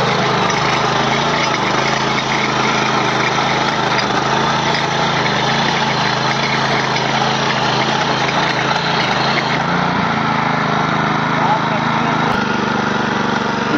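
A power rotavator tiller engine runs continuously, a loud, steady, buzzing drone close by that holds for the whole stretch with only a slight shift in tone near the end.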